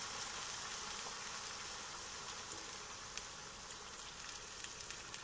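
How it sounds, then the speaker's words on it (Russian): Steady, soft hissing and splashing of cold bottled water poured into a pot of pearl barley with onion and carrot, with faint crackles throughout and no voices. "начинаем с вами наливать воды туда"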